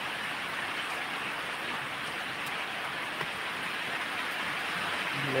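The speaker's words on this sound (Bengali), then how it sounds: "দেখেন বৃষ্টি আছে" Steady rain pours down outdoors, a dense, even hiss of drops hitting surfaces that continues unbroken from start to finish, with no voices.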